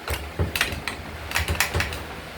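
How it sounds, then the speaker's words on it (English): Small check balls drop out of a 4L60E automatic transmission valve body during teardown. A quick cluster of sharp metallic clicks and rattles is heard close up, with no talk. "what you heard just come out right now are your check balls"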